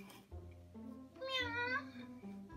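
A cat meows in a drawn-out, rising and falling cry, close and fairly clear, with a low hum running underneath.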